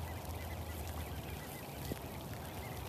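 A huge flock of roughly two thousand ducks on the water, a dense, continuous chorus of quacking and honking calls at a distance over a steady background wash.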